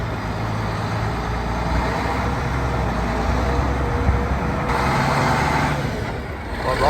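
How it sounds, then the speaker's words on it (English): An old vehicle's engine drones loud and steady while its funny old gearbox whirs and winds beneath, one continuous close rumble that swells slightly near the end. "Makes some funny noises, the gearbox,"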